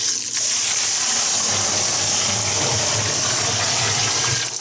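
Water pours steadily into a barrel, over 30 litres, a loud continuous rushing gush with a faint low hum underneath.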